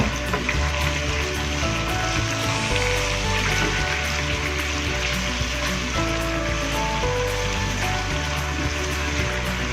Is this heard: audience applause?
no